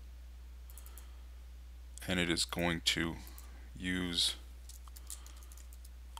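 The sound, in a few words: typing on a computer keyboard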